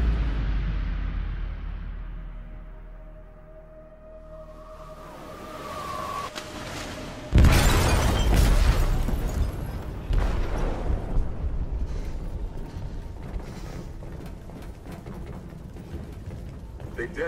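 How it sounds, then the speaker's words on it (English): Explosive detonating in a ship's hold in Detroit: Become Human, a sudden heavy boom that cuts through a quieter stretch and is followed by rumbling, crackling debris and continued roaring noise. "They detonated an explosive in the hold."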